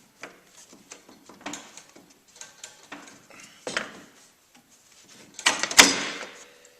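A Missing Link suspension part is pried into a Ski-Doo snowmobile frame rail, making a series of small close metallic clicks and scrapes, then a louder clunk and rattle as it shifts, with no talk.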